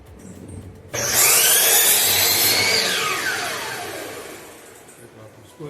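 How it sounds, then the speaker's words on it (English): A saw cuts off a marked section of a board in a woodworking build: a loud, continuous rasping cut starts abruptly, holds steady, then gradually fades as the cut finishes. "Now I'm going to turn around the saw and just cut that off."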